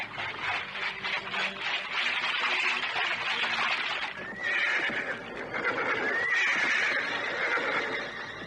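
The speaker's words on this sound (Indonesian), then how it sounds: "Tapi kuda-kuda itu tiba-tiba berhenti sendiri, Bu." Horses neigh loudly on a road at a crossroads as they pull up short, giving long, wavering whinnies over a dense rustle and a few hoof clops, with no voices.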